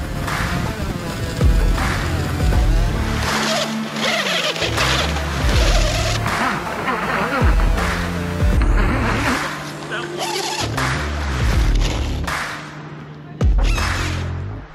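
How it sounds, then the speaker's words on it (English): A 3D-printed electric go-kart drifts across grass, its motors whining loudly and continuously, pitch surging and dropping as it slides and accelerates, with rough rumbling from the wheels throughout. "This setup was turning out to be enormous fun as it was drifting on the grass."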